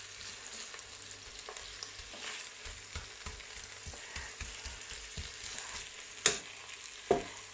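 Beef for wartime curried beef fries in a pan, a close steady sizzle with repeated stirring scrapes and two sharp metallic clanks toward the end.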